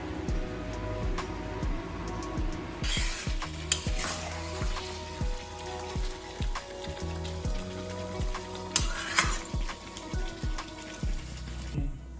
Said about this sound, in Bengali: আজকে বিরিয়ানির মাটনটা জল দিয়ে যা একটু সেদ্ধ করতে দেওয়া হচ্ছে